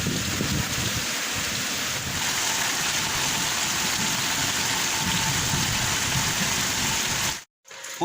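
Heavy rain pours steadily into a home courtyard during a fierce storm, a dense, loud, unbroken hiss with no voices, cutting out abruptly for a moment near the end.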